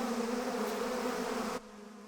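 Dense, continuous buzzing of a swarm of killer bees, loud and close, ending abruptly into a quieter hum.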